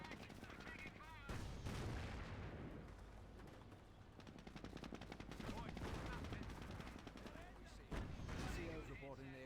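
Infantry gunfire in the war game Liberation of Caen: continuous rattling machine-gun and rifle fire with heavy booms, a busy loud battle din with shouted voices mixed in.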